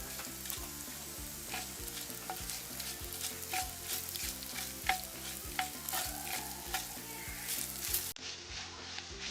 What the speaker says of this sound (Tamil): இப்போ வெந்தயம் பொரிப்பட்டு இந்த வாசம் தருது.